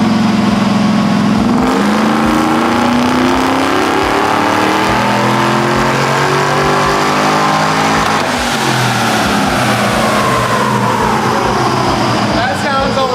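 Car engine revving hard on a dyno run, a loud rising roar that climbs in pitch, dips and climbs again through the gears, with people talking over it.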